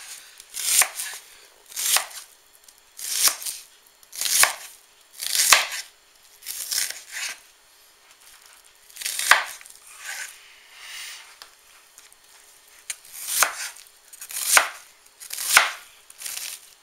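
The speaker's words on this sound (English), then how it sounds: "But we're just going to dice the onion up." A knife dices an onion into small squares for chili on a cutting board, giving a run of about a dozen crisp, close chops in uneven rhythm with short pauses.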